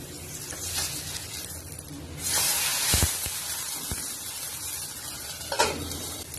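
Appam fries in oil in a wok-like pan, giving a steady close sizzle with scraping stir sounds and a few sharp knocks as it is turned with a spatula.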